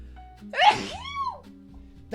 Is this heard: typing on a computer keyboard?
no